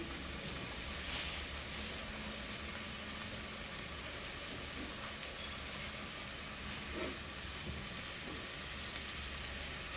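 Chopped red onions fry in oil in a pan with a steady, close sizzling hiss throughout, broken by a few soft stirring scrapes.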